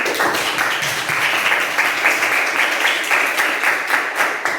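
Classroom applause from a group of primary school pupils, dense steady clapping that carries on loud and close for several seconds without pause.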